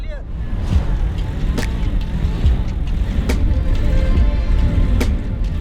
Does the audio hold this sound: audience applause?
no